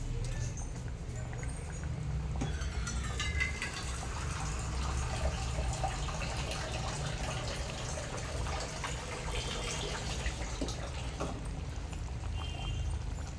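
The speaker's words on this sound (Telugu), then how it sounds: "ఇంకా కొంచెం వాటర్ పోసాం" Water pours into a pot of mutton curry with a soft, steady splashing, fairly quiet and continuous, with a low rumble underneath.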